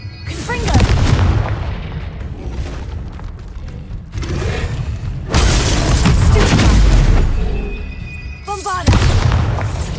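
Explosion spells cast in Hogwarts Legacy, a string of loud booming blasts with shattering bursts spaced a few seconds apart, mixed with in-game voices shouting spell names.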